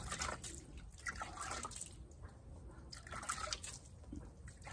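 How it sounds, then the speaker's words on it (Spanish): Water pours and drips onto a potted succulent plant in a soft, steady trickle with a few splashy bursts, faint and close. "vamos a ponerle agua a la otra, vamos a ponerle agüita para que"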